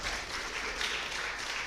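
An audience at a church service claps in sustained, dense applause. The clapping is fairly loud and even and holds for the whole stretch without a clear break.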